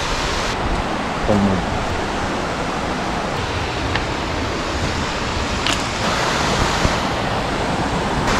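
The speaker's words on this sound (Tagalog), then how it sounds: "Ito ang Moyi Lake Falls." Moyie Lake Falls in British Columbia pours with a loud, steady broadband rush of falling water, constant and close, with a few faint voices beneath it.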